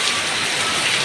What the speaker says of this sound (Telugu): మామూలుగా లేదు వర్షం, ఏపచ్చమైన వర్షం. కుమ్మ వర్షం